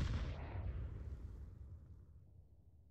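Molotov fire bursting on Overpass in Counter-Strike, a loud crackling roar that starts at full strength and then fades steadily over a few seconds, with no one talking.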